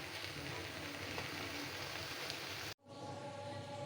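Bottle gourd greens (lau shak) sizzle in a pan, a dense steady hiss that cuts off abruptly near the end, leaving a quieter hum with faint crackle.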